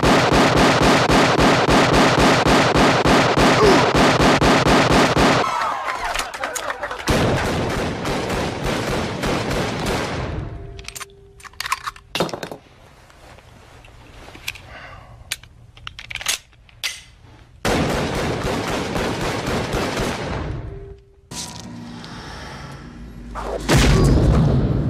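Action-movie gunfight and explosions from the Hard Target climax in a Mardi Gras graveyard: loud sustained bursts of gunfire and booming blasts broken by sharp single shots and quieter gaps, with rumbling fire-like noise between.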